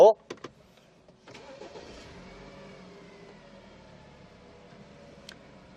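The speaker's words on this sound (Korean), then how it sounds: "이 4기통 엔진 어떤지 제가 시동 한번 걸어볼게요" A few clicks, then a BMW 5 Series four-cylinder car engine cranks and catches, settling into a smooth, quiet idle nearby.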